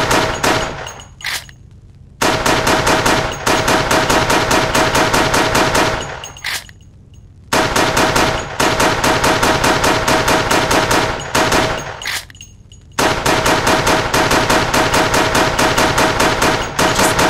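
Rapid automatic gunfire in the video game Resident Evil: The Darkside Chronicles, loud sustained bursts of shots broken by a few short pauses.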